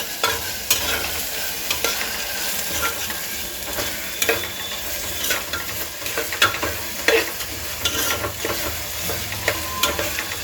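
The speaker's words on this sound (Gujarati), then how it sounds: "હવે એને ધીરે ધીરે ફાડાને મસ્ત ઘીમાં શેકાવા દેવાના છે." Broken wheat roasting in ghee in a pan for fada lapsi, with a steady close sizzle and repeated scraping stirs of a spoon all the way through, and no talk.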